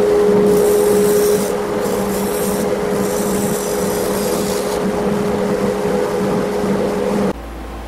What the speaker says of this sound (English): Alright, so I'm just going to sand it, and I'll come back when I get it all the way up to 400.